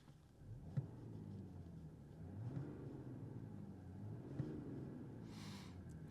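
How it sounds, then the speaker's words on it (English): A Mercedes GLE450 with its 3-liter six-cylinder diesel engine idles as a low, fairly quiet rumble, swelling in a few gentle rev cycles, with a faint click marking each one. "GLE450 6-cylinder 3-liter diesel specific sound"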